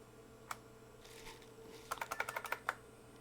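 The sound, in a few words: key presses on IBM PS/2 Model 85 keyboard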